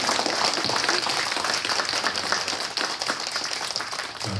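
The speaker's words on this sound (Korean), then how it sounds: "다시 한번 박수 부탁드립니다." Audience applause at a Korean literary academy lecture event, a steady, dense patter of many hands clapping that holds at an even level for the whole stretch with no voices.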